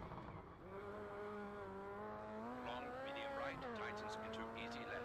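A Seat rally car races through a Monaco stage in Rallisport Challenge 2, its engine droning steadily with rising and falling pitch as it shifts, joined by brief tire squeals, with a voice talking over it throughout.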